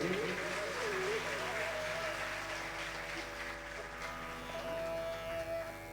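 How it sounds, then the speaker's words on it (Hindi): Strong applause from listeners at a Shrimad Bhagwat Katha religious gathering, steady throughout, mixed with sustained musical tones and a voice that rises over it. "एक बार सभी के लिए जोरदार तालियों से स्वागत करेंगे।"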